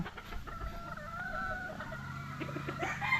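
Breeder hens cluck and murmur steadily in a coop, several birds overlapping in a continuous, close farmyard chatter.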